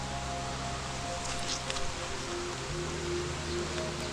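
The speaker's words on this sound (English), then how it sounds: "It's starting to rain heavy again." Steady, dense hiss of heavy rain falling on jungle foliage on Oahu, Hawaii, continuous and enveloping, with scattered nearer drops and no voices.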